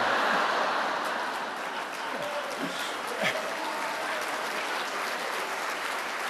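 A large stadium crowd cheers and applauds a referee, a steady dense roar of clapping and voices throughout with a brief swell near the middle.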